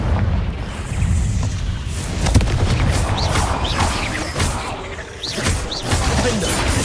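Confringo spell explosions in Hogwarts Legacy, loud booming blasts and crashing impacts mixed with whooshing magical effects across a busy combat scene.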